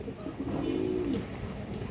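One low rolling coo comes from a red khaki male Kajlaputti pigeon, close up, against a faint background of other birds.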